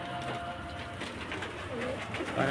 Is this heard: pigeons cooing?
yes